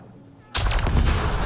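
A sudden loud burst of gunshots from the Mass Effect Andromeda game erupts after a quiet moment and continues as a dense, close roar of fire to the end.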